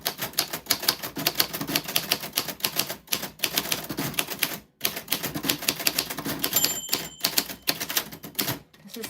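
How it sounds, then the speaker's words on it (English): A typewriter rattles through a rapid, steady run of close, crisp keystrokes during live ASMR typing, broken by a few short pauses, with no talking. "typewriter ASMR"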